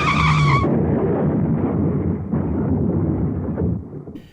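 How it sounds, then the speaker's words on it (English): A car drifts off the road and skids into a roadside ditch, giving a loud, rough rumbling roar that runs unbroken for about four seconds and then trails off toward the end. "he fell asleep at the wheel and skidded off the road into a ditch"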